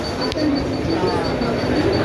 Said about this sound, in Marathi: आसनगाव की लोकल आहे ट्रेन आलेली आहे